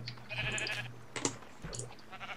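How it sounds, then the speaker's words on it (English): Sheep in the video game Minecraft bleat in a couple of wavering calls, fairly close and clear over quiet background clicks. "There's sheep over here."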